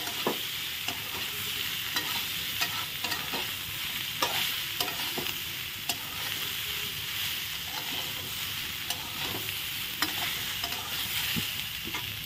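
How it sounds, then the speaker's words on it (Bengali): Young jackfruit pieces frying with turmeric in an oiled pan for a curry, a continuous sizzle broken by repeated clicks and scrapes of a spatula stirring, close and even throughout. "কাঁঠাল ভালো করে ভেজে নেওয়া হয়ে গেছে"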